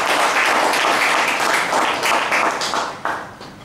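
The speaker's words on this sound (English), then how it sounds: "Please give yourselves a big round of applause." A room of Toastmasters club members gives a loud, sustained round of applause, thick rapid clapping that stays strong before easing slightly near the end.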